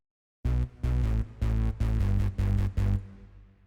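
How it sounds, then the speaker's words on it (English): A hardstyle synth bass line made in FL Studio 20 plays alone in six loud, punchy sustained notes with brief gaps, deep and distorted, the last note ringing out. "And the bass line sounds like this."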